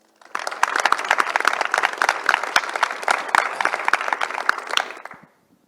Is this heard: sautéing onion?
no